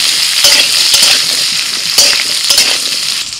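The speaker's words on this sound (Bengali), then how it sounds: "সব সবজিগুলো ভাজা হয়ে গেছে" Vegetables for a leafy greens dish, including radish and sweet potato, sizzle steadily in a hot pan, a loud continuous hiss broken by occasional stirring scrapes.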